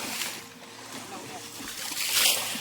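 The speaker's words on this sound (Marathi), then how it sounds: "झपाझप पाणी उपसताना सोन्या माझ्या अंगावर पाणी टाकतो इकडं" Water splashing and sloshing as people bail out a shallow river pool to catch fish, repeated uneven splashes nearby with a louder burst near the end, under outdoor talk and voices.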